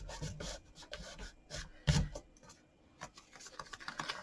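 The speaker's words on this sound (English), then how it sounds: "just take your rubber and rub off those lines" A rubber eraser scrubbing pencil lines off a card, faint close scratchy rubbing in short irregular bursts with soft taps and handling noise.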